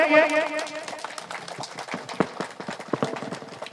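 Scattered clapping from an audience greets guests seated on stage at an Independence Day welfare foundation event. Irregular claps come up right after a loud amplified voice and continue at a moderate level.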